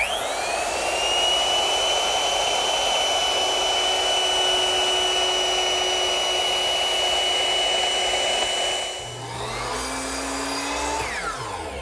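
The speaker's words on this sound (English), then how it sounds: "I'm running a decorative chamfer right along the edge of all 4 pieces" Router running a decorative chamfer along the edges of four wooden coffee-table panels: a loud, steady high-pitched whine held for about nine seconds, then winding down as the motor spins off.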